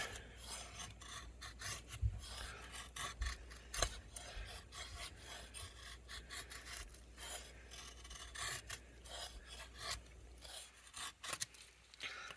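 A Bark River Bravo 1 LT knife in Magna-Cut steel shaves fine wood feather sticks, giving repeated short rasping scrapes in an uneven rhythm, close and quiet, with occasional soft knocks and no talking.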